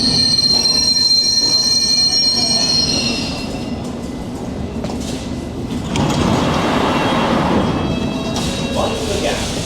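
A London Underground District line train's wheels squeal with high, shrill tones for the first few seconds, then give way to a loud, rumbling roar of the carriages in motion.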